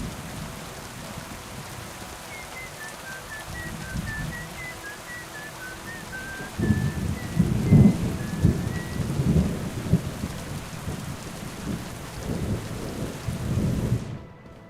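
A thunderstorm with steady rain in Kingdom Come Deliverance 2, with rolling thunder growing louder and rumbling through the middle and a faint whistling tone above the constant downpour.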